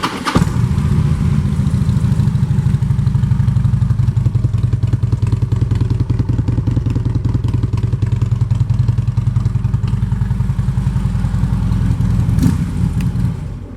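A 2016 Harley-Davidson Street Glide touring bike fitted with Vance & Hines pipes, its engine running loud and steady at a lumpy, rhythmic idle with exhaust pulses throughout, close up with no talking.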